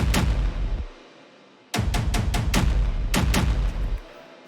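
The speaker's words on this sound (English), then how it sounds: "it's just adding like a little rhythmic hit" Punchy synth rhythmic hits in a track arrangement, loud with sharp attacks, falling into a short group of repeated stabs after a brief pause, with no voices.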